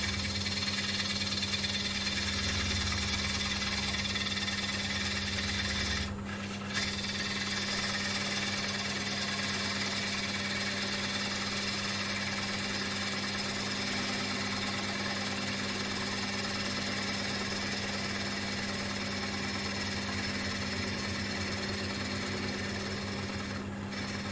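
A wood lathe turns a large platter while a gouge rides its bevel through the cut, giving a continuous droning hum with a steady scraping, rasping texture throughout, loud and close with no talking.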